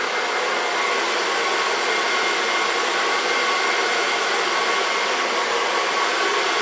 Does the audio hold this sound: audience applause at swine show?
no